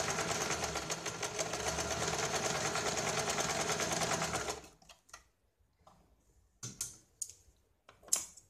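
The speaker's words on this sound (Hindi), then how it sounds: "यहाँ पे हमें डबल सिलाई लगानी है।" A sewing machine runs a steady double-stitched shoulder seam on a blouse, whirring continuously for a few seconds before stopping, followed by a few short clicks and handling noises.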